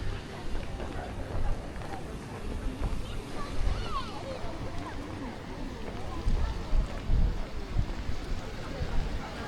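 Steady gusting wind buffets the microphone in the open old town square of Sibiu, Romania, a continuous low rushing roar with uneven swells throughout.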